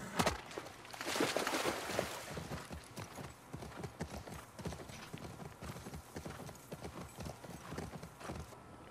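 Horse hooves clip-clop at a quick galloping pace in The Last of Us Part 2, a rapid rhythmic stream of thuds that starts louder then settles into a steady, moderately close beat, with no talking over it.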